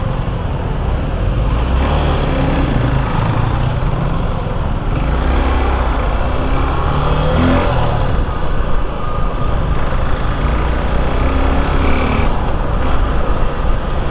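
A Suzuki V-Strom 250 SX single-cylinder motorcycle engine runs with a steady, somewhat noisy drone that holds at a constant level throughout, with no talking over it.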